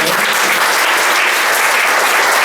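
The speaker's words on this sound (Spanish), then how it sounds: "Démosle un fuerte aplauso al Señor." A church congregation applauding during a Sunday morning service, a loud, even burst of many hands clapping that holds steady without a break and with no voices over it.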